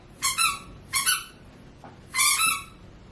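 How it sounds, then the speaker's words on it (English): A dog's new squeaky tennis ball toy squeezed three times, giving shrill, close squeaks, two short double-squeaks and a longer final one, with quiet pauses between. "He has this new squeaky tennis ball."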